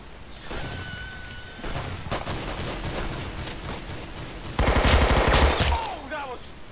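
Rapid gunfire in the video game Arsenal, dense bursts of automatic shots rattling continuously, loudest in a heavy closing barrage, with a faint voice mixed underneath.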